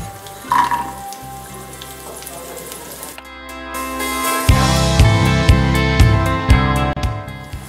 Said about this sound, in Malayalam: അണ്ടിപ്പരിപ്പിൻ്റെ കളർ ചേഞ്ച് ചെയ്യാൻ തുടങ്ങുമ്പോൾ ഇതിലോട്ട് മുന്തിരി ഇട്ട് കൊടുക്കുകയാണ്